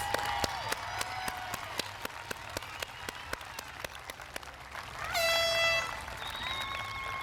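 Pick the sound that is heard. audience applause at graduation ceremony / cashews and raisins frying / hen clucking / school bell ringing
audience applause at graduation ceremony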